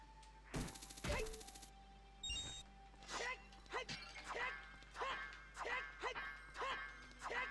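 Pots being smashed in The Legend of Zelda: Ocarina of Time, a series of short crashing and breaking impacts, loud and close, with game tones and effects around them and no talk.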